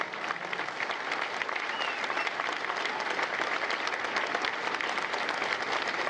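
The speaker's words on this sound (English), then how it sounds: "A round of applause for their dedicated service to Corps and country." Audience at a Marine Corps recruit graduation ceremony at MCRD San Diego clapping steadily, a dense, even round of applause from a large crowd that holds for several seconds with no voices over it.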